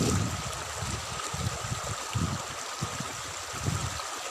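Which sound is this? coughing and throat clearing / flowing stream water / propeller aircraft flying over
flowing stream water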